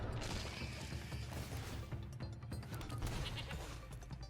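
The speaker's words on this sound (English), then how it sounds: "The goat." A goat bleats as a game sound effect in a digital card game, a short wavering cry over clattering mechanical effects and noise.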